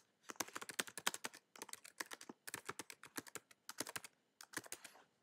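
Rapid clicking keystrokes on a computer keyboard, typed in several quick bursts separated by short pauses, close and clear with no talking.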